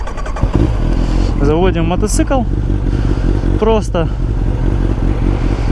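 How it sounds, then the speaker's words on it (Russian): A motorcycle engine cranks and fires up, then idles with a loud, steady throb and a couple of quick revs, close by, with someone speaking briefly over it. "Заводим мотоцикл."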